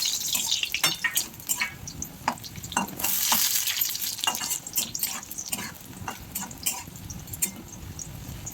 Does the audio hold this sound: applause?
no